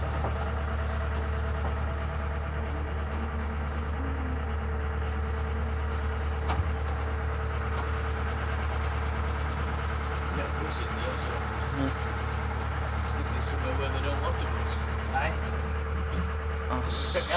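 A 1980s-registered vintage bus, C511 BFB, idles inside the Bristol Vintage Bus Group's depot shed with a steady low diesel rumble, while people talk nearby over the constant engine drone.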